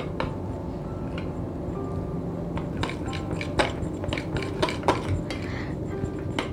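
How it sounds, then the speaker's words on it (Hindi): A kothimbir vadi mixture of coriander and roasted crushed peanut powder is mixed by hand in a bowl, making soft squishing, scraping sounds with scattered clinks of utensils against the dish. "रोस्ट करके क्रश किया हुआ पीनट का पाउडर और इसे अच्छे से मिक्स कर लेंगे"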